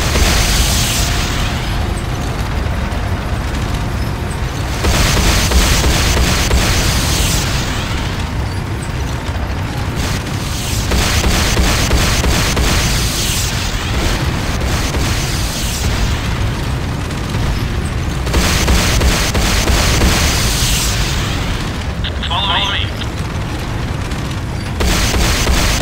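Explosions roll through an attack on the Nod power plant in the game Renegade, loud and sustained, a dense run of booms and bursts that swells in waves for about twenty-five seconds with no voices.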